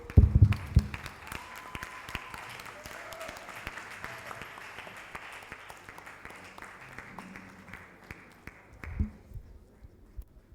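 Applause from a conference audience at a women in chemistry event, a dense wash of clapping that swells early, holds steady, then fades out toward the end, with a brief voice near the close.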